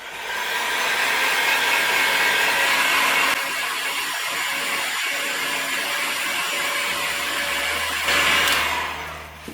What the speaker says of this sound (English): Dry it off with the heat gun.